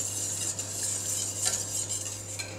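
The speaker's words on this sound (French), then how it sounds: "Ici, je mélange bien le miel avec le lait à l'aide du fouet." A whisk stirs honey into milk in a pot, making quiet, continuous scraping and clinking under a steady low hum, with no talking.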